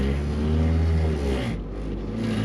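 A K24 Honda engine swapped into a Mazda Miata MX-5 drones loudly from inside the cabin, its low harmonics rising and falling as it revs, steady and close throughout.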